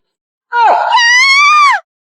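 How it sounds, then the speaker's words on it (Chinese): A single drawn-out scream from a character in an animated apocalypse story, loud and close, rising sharply then holding a strained wailing pitch for over a second before breaking off into silence. "一声尖叫声传来。"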